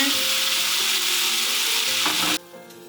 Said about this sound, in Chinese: 在锅中放入少许橄榄油，炒香甜椒丁和虾肉丁